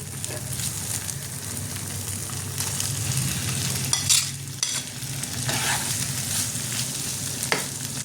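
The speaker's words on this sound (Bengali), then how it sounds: "এবার আমি চিংড়ি মাছগুলো এর মধ্যে দিয়ে দেবো" Prawns hit hot oil and fried masala in a pan, giving a steady close sizzle with stirring scrapes and brief louder bursts, no voices.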